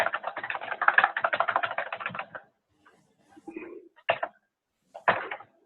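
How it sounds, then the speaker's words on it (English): Rapid keystrokes on a computer keyboard patter in a dense, steady run for about two seconds, then stop, followed by a few isolated clacks and thumps after a pause, with no voices. "I hear you typing away"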